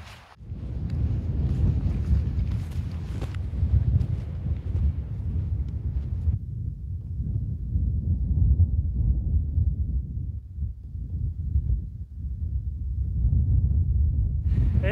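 Strong wind roars and buffets steadily across the whole stretch at Zombie Peak in Alberta, a dense low rumble with gusty swells and no voices.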